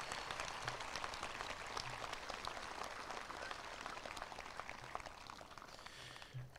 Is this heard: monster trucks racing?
no